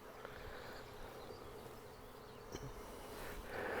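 Honeybees buzz around nuc hives being installed on a farm, a faint, steady hum that holds throughout and swells slightly near the end.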